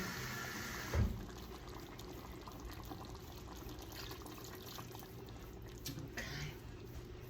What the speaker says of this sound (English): Let me put a little more water in there.